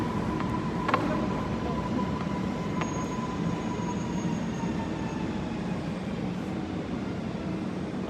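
A Polish regional train pulling away from a station platform, a steady rumbling roll of wheels and carriages with faint squeals and a couple of clanks early on, constant and moderately loud.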